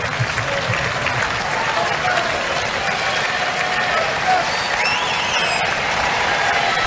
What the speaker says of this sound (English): Crowd have enjoyed this.